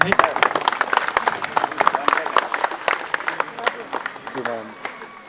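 Audience applause at a felicitation ceremony for a teen pageant winner, with dense, steady clapping from a crowd that holds across the whole stretch and tapers slightly near the end, while a voice speaks over it.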